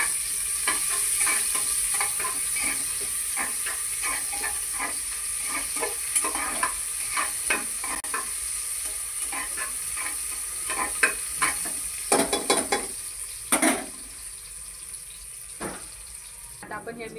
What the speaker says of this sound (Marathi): आता आपण कांदा थोडा परतून घेणार आहोत